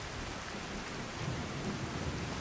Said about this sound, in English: Rainy day in Whiterun Hold.